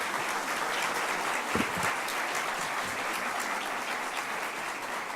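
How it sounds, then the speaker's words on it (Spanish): A conference audience applauds steadily and fairly loudly, a dense wash of many hands clapping at once that holds for several seconds with no voices over it. "Y extiende el aplauso, por favor."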